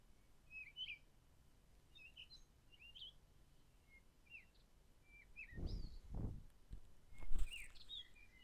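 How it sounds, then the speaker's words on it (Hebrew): A small bird repeats short, high chirps at a soft, steady pace, with a few dull low thumps partway through. "ציפור מתיישבת לנו על הכתף. היא מצייצת"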